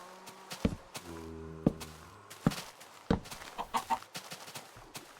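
Chickens clucking in the Minecraft game, a series of short, abrupt game clucks spaced about a second apart with a few light footstep-like taps between them, close and clear with no talking.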